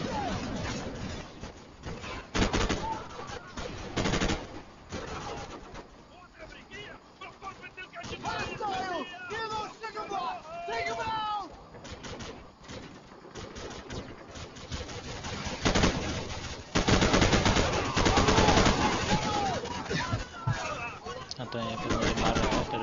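Automatic and single-shot gunfire from the Call of Duty video game, a war scene with bursts of rapid shots mixed with explosions and background noise, steady and loud throughout the clip.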